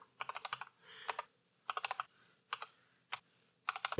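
Keyboard keys tapped in quick bursts of several strokes, with short pauses between runs, as a PowerShell command is typed on a Windows 11 computer; close, crisp clicks with no voices.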